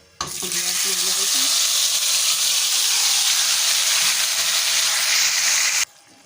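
Marinated beef pasanda hits a hot pan with cinnamon for a Hyderabadi gravy dish, setting off a loud, steady, broadband sizzle that holds evenly for several seconds before cutting off, with faint clinks of utensils at the start.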